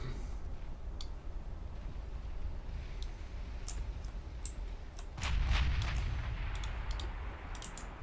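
Battleship guns firing in the naval combat game Ultimate Admiral Dreadnoughts, with 20-inch shells in play: a steady low rumble of distant cannon fire, a heavier boom swelling near the middle, and sharp clicks scattered throughout.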